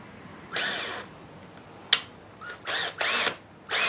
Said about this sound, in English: So now I'm going to drill a hole to fasten it.